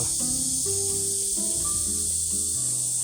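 Cicadas sing loudly and without a break in the countryside by the Seomjin River, a dense, high, buzzing drone over quieter tonal sounds in the background.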